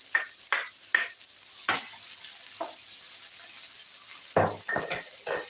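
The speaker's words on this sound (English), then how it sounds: "Into my wok is onions and garlic. So I'm just gonna add my mixed veg." Mixed vegetables go into a wok of onions and garlic. A steady sizzle runs throughout, broken by several sharp clinks and scrapes of a utensil against the pan, clustered at the start and again near the end.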